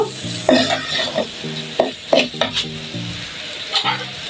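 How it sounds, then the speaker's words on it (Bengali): Cooked rice being stirred into fried vegetables and egg in a pan, making irregular scraping, clattering strokes over a steady sizzle, close and fairly loud with no talking. "তো চালটা এখানে অ্যাড করে দিচ্ছি দিয়ে ভালো করে মিশিয়ে নেব"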